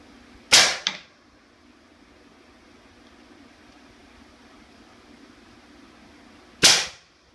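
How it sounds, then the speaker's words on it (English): Two gunshots fired through a homemade suppressor, each a sharp, loud crack with a short tail, the first followed by a quick echo, about six seconds apart over faint background hum. "The first shot should be the loudest."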